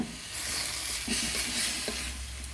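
A fenugreek-leaf vangibath mixture sizzles steadily in a pan, a close, continuous hiss of frying with faint stirring and no voices.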